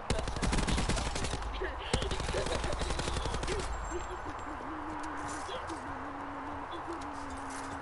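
Gunfire in the video game Black Ops 4: rapid bursts of automatic fire rattle through the first seconds over a dense, loud game mix, then ease off while a steady tone and background game noise continue.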